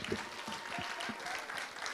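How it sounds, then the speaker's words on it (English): Audience at a Canadian poetry slam final applauding a poet, brief dense clapping throughout, moderately distant, with a voice over it. "Applaud your poet, not those silly scores."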